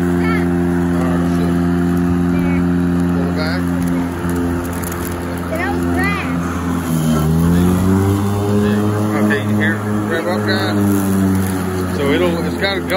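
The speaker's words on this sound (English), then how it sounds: "She's coming with the mower. You should hear it rev up." A Ryobi 40V HP lawn mower runs over thick grass with a loud, steady motor whine that dips and then rises as it works harder. People talk over the sound.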